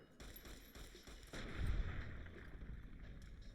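Gunfire in a video game sounds as a quiet burst of muffled shots with a deeper boom partway through, followed by a low rumble that fades, and no voices.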